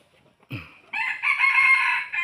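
A red junglefowl rooster gives a short cluck, then a loud close crow that rises and holds for about a second, alone with no other sound.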